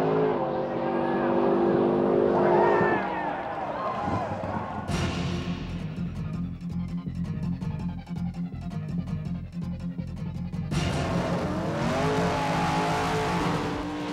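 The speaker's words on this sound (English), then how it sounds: "Rieger finally found the right recipe for his Turbo 57, grabbing top qualifying honors with a 676 at 202 miles an hour" A Turbo 57 Pro Street drag race car howls loudly down the strip, engine roar and rapid rev pulses filling the whole stretch, with a sharp surge in the middle and crowd or commentary noise blending underneath.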